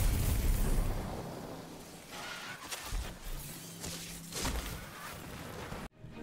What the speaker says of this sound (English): we let out a void explosion, which happens when we melee an enemy